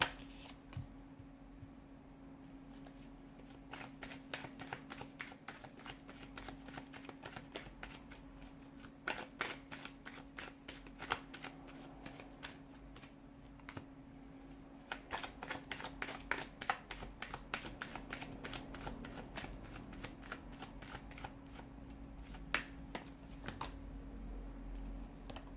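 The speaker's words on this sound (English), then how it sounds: "let's go ahead and give the cards a shuffle" Tarot cards being shuffled continuously for about 25 seconds, with dense bursts of riffling and slapping over a steady low background hum, close by and with no talking.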